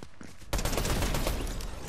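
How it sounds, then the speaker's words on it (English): A fast-firing gun in a video game lets loose a sudden, continuous burst of rapid shots, loud and close, after a brief quieter moment. "Oh my gosh, this gun is fast."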